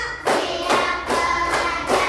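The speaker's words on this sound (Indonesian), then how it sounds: "Tepuk 1, tepuk 2, tepuk 3, tepuk 4, tepuk 5" Elementary schoolchildren in a classroom clap together in a counted rhythm, giving five loud, close, evenly spaced group claps with short gaps between them.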